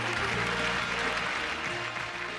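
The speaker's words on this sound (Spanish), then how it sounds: "Un aplauso para Freddy." Studio audience applauding a guest on a Spanish comedy show, a steady dense wash of clapping that holds throughout at fairly close range.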